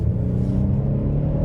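A 2024 Hyundai Palisade Calligraphy with a 3.8 V6 pulls under acceleration, shifted with paddle shifters, giving a steady, loud low engine rumble and drone that holds evenly throughout.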